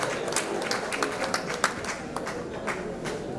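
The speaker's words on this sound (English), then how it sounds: "Please round of applause for him." Scattered applause from a crowd at a gala night of the Ogbakor Ikwerre USA convention in Dallas, a steady moderate patter of clapping with a few sharper claps standing out.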